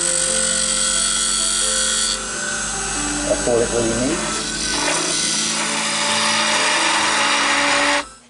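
A King Industrial wood lathe spins a mounted piece of wood with a steady high whine and the scrape of a light cutting pass, as someone talks briefly before the motor cuts off at the end.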